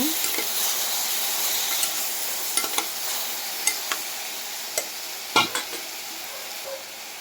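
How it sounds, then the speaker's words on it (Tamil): Eggplant and tomato frying in oil for a Tamil-style side dish, with a steady sizzle throughout and a spoon stirring the pan in scattered light scrapes and taps, close by and with no talk. "கத்திரிக்காய் கொஞ்சம் எண்ணெயில் வதங்கினதும் கட் பண்ணி வச்ச தக்காளி ஆட் பண்ணிக்கலாம் அதையும் கொஞ்சம் நல்லா மிக்ஸ் பண்ணிவிடுங்க"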